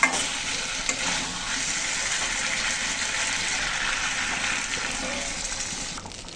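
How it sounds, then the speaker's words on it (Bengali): Water gushes into a pan of pangas fish and potato curry cooking over heat, a steady broadband pour and sizzle running the whole time at close range, easing slightly near the end. "এখন জলের জন্য জল দিয়ে দেবো"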